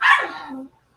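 A single sharp dog bark close by, loud and abrupt, trailing off quickly into silence.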